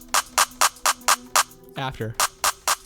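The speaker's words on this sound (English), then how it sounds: "I substituted in a clap so you can kind of see how this free clip works on a clap." A clap sample processed through a free clipper plugin, heard as a fast, regular series of sharp, bright claps that pause briefly while a person speaks, then resume.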